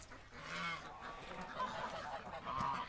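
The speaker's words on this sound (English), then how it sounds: "She's a goose." A goose honks in a few raspy, overlapping calls at moderate volume, with other fowl murmuring faintly in the background and no talking.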